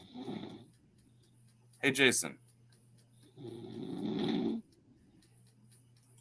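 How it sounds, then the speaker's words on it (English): A sleeping person snores over an open call line, with two long, rasping snore breaths a few seconds apart, one brief louder snort between them and a steady low hum underneath; someone briefly speaks a greeting. "Who's snoring on me?"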